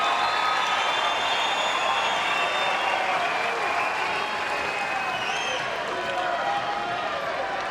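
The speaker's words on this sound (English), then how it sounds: "What an ovation." A large stadium crowd roars and applauds Lleyton Hewitt at the 2008 Australian Open tennis match, a dense sustained ovation of clapping and cheering that carries on loudly throughout, with whistles rising above it.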